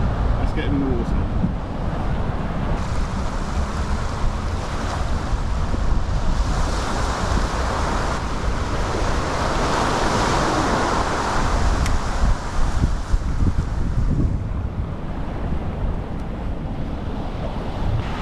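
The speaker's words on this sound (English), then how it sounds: "it is an onshore wind, but it's very light" A light onshore wind blows across a beach, a steady rushing buffet over the wash of surf that swells and eases throughout.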